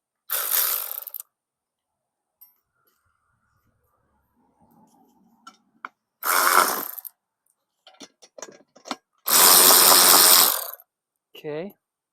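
A wrench ratchets a 19 mm nut with a lock washer onto a Bauer cement mixer: three short, close bursts of rapid clicking separated by pauses, with small metallic clinks between them.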